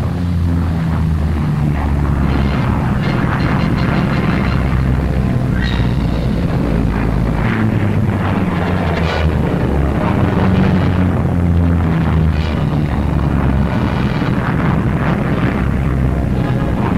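Royal Air Force fighter aircraft roar as they take off from a front-line airbase, a continuous loud engine drone with wind buffeting that swells and fades across the whole stretch.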